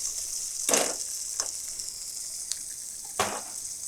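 Potato and capsicum roasting in a pan give off a soft, steady sizzle, broken by a few short bursts of scraping as the pieces are stirred. No one speaks.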